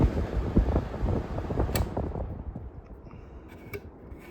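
A 1974 Friedrich Quietmaster air conditioner fan running on high, a steady close rushing whoosh that eases slightly toward the end, with a few faint clicks.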